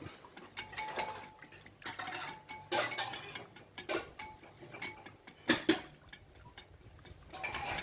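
Seafood hor mok mixture of shrimp, squid, kaffir lime leaf and red chili being stirred in a bowl, with irregular clinks and scrapes of a utensil against the dish, moderately close and with no talking.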